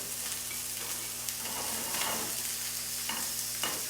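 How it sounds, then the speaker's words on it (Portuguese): Salmon fries flesh side down in a pan, giving a constant close sizzle with occasional soft scrapes and small pops, no talk over it. "eu vou deixar ela dourar agora do lado da carne"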